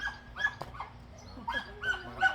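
A dog barks and yips in short bursts close by, with whimpering squeals between them, under a quiet room background.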